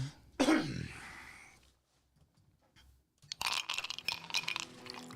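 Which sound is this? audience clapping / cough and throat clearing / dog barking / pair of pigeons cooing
cough and throat clearing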